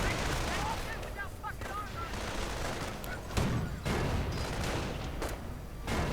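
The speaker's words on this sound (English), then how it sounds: "That seems like a bit of an odd position to call in the artillery right there by Steffhof" An artillery barrage in a WWII strategy video game, with rolling booms and sharp blasts going off in irregular bursts over a busy background of battle noise, fairly loud throughout.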